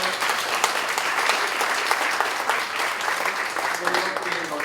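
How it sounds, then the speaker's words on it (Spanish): Steady, dense applause from an audience at a political panel discussion on education reform, filling the whole stretch at an even level with no voices over it. "Un aplauso"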